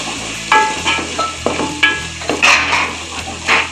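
Masala frying in a pan for chana and mash dal, with salt added and the mixture being roasted, gives a steady sizzle broken by several scraping stir strokes and light spoon clinks against the metal, fairly close and loud.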